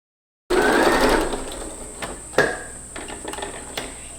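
A sewing machine stitches the curved sleeve of a baby romper into its armhole, with a steady whirring run up front that eases into lighter, intermittent mechanical clicks and short bursts.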